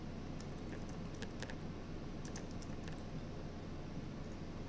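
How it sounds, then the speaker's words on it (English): Faint keyboard typing on a computer while entering a website name for a WordPress Google Analytics setup, a few scattered quick key clicks over low steady room hum. "Scroll down and type in the website name."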